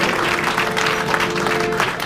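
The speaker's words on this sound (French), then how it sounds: "quelques applaudissements pour professeur Olivier" Audience applause for a professor at a talk on transhumanism, a dense steady patter of many hands clapping throughout, moderately loud and with no voices over it.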